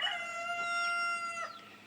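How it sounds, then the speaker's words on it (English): A young rooster crows once, a thin, high, sustained call with a wavering tail that drops off near the end, fairly close and alone with no talk over it. "Maybe it's a little rooster."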